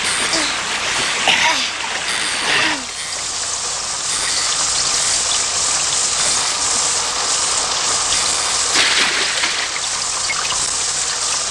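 Steady heavy rain pours beside a rising river, a continuous hiss and splatter throughout with occasional brief splashes and faint voices underneath.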